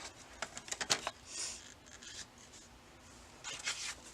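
Cardstock being cut down to note-card size, a quiet run of short crisp scraping strokes and snips in bursts, close up with pauses between, no talking.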